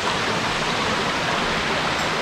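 Clear stream water rushes steadily through a creek in Lan Sang National Park, Tak, a dense, continuous close-up flow with no voices.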